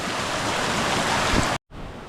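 A river in the Ruahine Ranges rushes in a steady, loud broadband wash, close and continuous, then cuts out briefly before resuming near the end.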